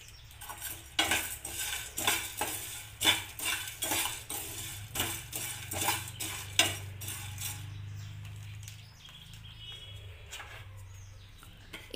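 A metal spoon clanks and scrapes rhythmically against a pan as Maggi noodles are fried and stirred with masala. The close clinks repeat for several seconds, then give way to quieter pan noise.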